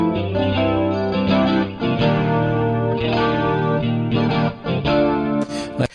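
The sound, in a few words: electric guitar with reverb effect added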